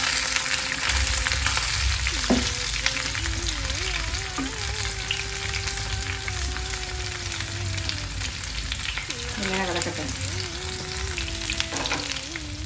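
A potato and drumstick curry bubbles and sizzles steadily in a pan, with occasional spoon scrapes as it is stirred, alongside a faint background whine.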